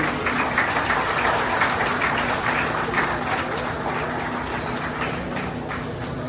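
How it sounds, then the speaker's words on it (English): Steady crowd applause at a county fair beef show, spectators clapping for a young exhibitor showing a heifer, sustained and moderately loud for several seconds with a faint low hum beneath. "Give her a round of applause real quick."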